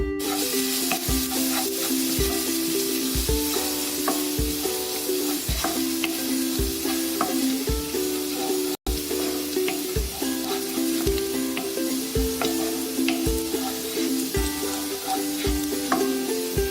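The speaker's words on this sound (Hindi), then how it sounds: "इसको 20 से 30 सेकंड सॉटे कर लेते हैं।" Garlic sautéing in a pan gives a steady, close sizzle and crackle that runs the whole time, with a regular rhythmic beat underneath.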